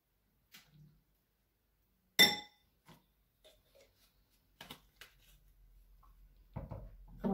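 A spoon clinks against a container of olive oil in a quiet room: one sharp bright tap stands out among a few faint scattered ticks and small knocks.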